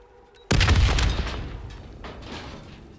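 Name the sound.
explosion in Call of Duty Black Ops III video game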